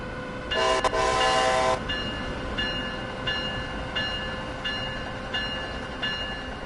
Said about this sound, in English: we are in New York on the Amtrak City Sprinter. Going to New York Penn.